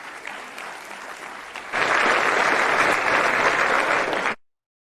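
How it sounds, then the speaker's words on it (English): Audience applause at a football award ceremony, a steady clapping crowd that swells sharply partway through, holds loud and dense, then cuts off abruptly. "please give him a big round of applause"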